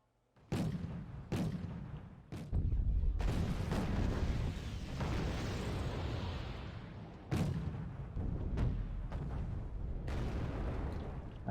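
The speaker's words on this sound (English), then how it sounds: "We're receiving here a barrage of missiles" A barrage of missiles explodes in the war game Wargame Red Dragon during the Battle of Wonju. Sharp booming impacts land several times over a continuous loud rumble of gunfire that lasts nearly the whole stretch.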